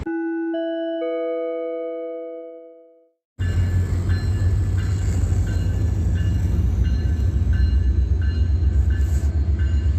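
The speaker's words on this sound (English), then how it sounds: "Documenting that's Metrolink" A Metrolink commuter train passes eastbound: a clear ringing tonal signal for about three seconds, then a sudden loud, close, continuous rumble with rhythmic clacking that fills the rest of the clip.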